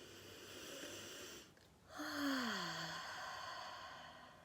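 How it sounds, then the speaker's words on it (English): One long, deep breath drawn in during a guided calming exercise, a soft airy rush after a brief pause, then easing out like a sigh over a low steady background hum. "Just take a deep breath in."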